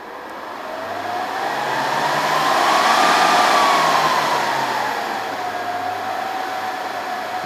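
A Dell PowerEdge 2950 server powers up as its fans whir in a loud, steady rush that swells to a peak midway and eases slightly, with a tonal whine gliding up and back down, heard close with no talking.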